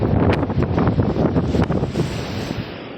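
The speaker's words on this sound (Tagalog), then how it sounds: "Grabe ang hangin." Strong wind buffets the microphone in heavy, uneven gusts, a loud roaring rumble that eases slightly toward the end.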